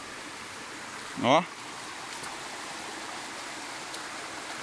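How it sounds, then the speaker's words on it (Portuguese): Quitite waterfall stream in Jacarepaguá, a steady broadband rush of flowing water heard close by, with a short voiced exclamation cutting in briefly near the start. "essa cachoeira aqui é a mesma água do Quitite"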